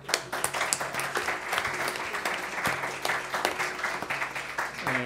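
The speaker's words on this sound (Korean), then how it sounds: "박수로 환영해 주시면 고맙겠습니다" An audience at a conference session on international cooperation for Korean peninsula peace applauds to welcome a speaker, with dense, sustained clapping from many hands, steady and moderately loud throughout, with a few murmurs underneath.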